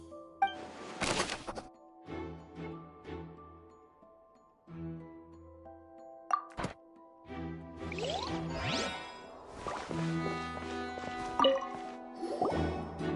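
Water in Genshin Impact drips onto a wet floor in a series of irregular, near, clear drops and plops, each ringing briefly, with some quieter splashes between them.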